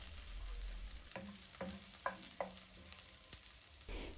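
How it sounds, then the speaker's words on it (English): Red onion fries in cooking oil in a pan, giving a continuous crackling sizzle with several soft scraping stirs in a row, close up and without any voices. "Then you're going to fry in your onions."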